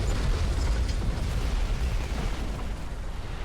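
A tank is destroyed by an M47 Patton in the War Thunder video game: a dense, noisy burst of explosion and rumble that stays loud and broadband throughout, with no talk.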